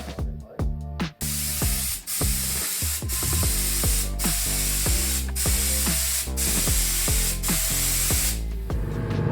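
A paint spray gun hisses loudly and steadily over a boat being painted, with repeated mechanical ratcheting clicks pulsing at regular intervals beneath the spray.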